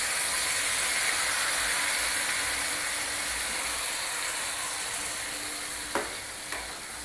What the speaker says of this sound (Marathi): त्यामध्येच हा मसाला घालूया.